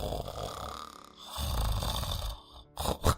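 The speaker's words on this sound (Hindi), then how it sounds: "देखो तो कैसे आराम से खर्राटे बर रहा है ये आदमी।" A man snoring in a Hindi cartoon, two long, loud, rasping snores close to the listener, followed by a shorter snort.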